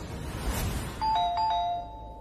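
A doorbell chimes in a home, a few bright ding-dong tones struck in quick succession over a soft rustling background, close and clear with no talking.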